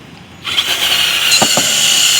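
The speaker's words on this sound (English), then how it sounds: "Then I'm going to take my drill with the brush on it" A power drill with a scrub brush attachment whirs up and runs steadily with a high-pitched spinning whine, brush scrubbing against a boat's anti-skid deck surface, with a couple of brief squeaks.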